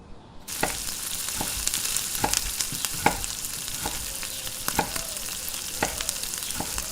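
Food frying in a pan on a home kitchen stove, a continuous loud sizzle broken by sharp clinks and scrapes of a utensil stirring at irregular intervals, with no one talking.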